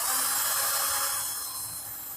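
A modified 12V cordless battery drill runs at its first speed setting, a thin steady high whine that fades slightly toward the end, heard alone.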